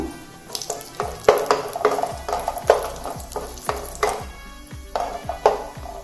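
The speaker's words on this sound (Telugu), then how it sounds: "ఫస్ట్ జీడిపప్పు వేయించుకుందాము" Cashews fry in ghee in a pan for sweet pongal, a spoon stirring and scraping in a steady rhythm of close metallic strokes over a soft sizzle.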